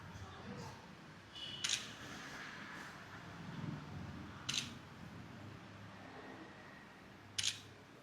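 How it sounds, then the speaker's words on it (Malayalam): A camera shutter clicks three times, a few seconds apart, each click sharp and close over a faint room hum in a restaurant. "നോക്കിയാ ഒരു ഫോട്ടോ എടുക്കട്ടെ"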